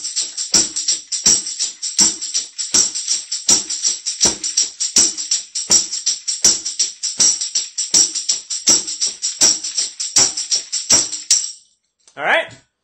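A second line drum groove is played as a steady, fast eighth-note pattern of sharp, evenly spaced hits with ringing cymbal wash on top, then a brief pause.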